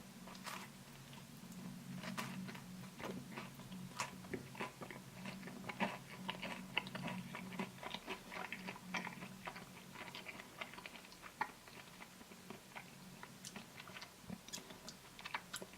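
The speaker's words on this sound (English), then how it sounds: "Here we've got the salami slice, and I'm going to taste that as well." Soft, close chewing of a salami slice from a Dr. Oetker Ristorante Quattro Stagioni pizza, with steady moist mastication and small crunchy clicks over a low background hum, no talking.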